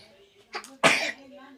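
A single close sneeze, a short inhaled lead-in followed by a burst, with a faint background hum.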